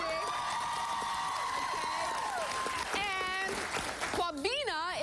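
Women's high-pitched voices sustain loud screams and whoops before a show, wavering and overlapping, then a voice imitates them with a rising, wobbly cheer.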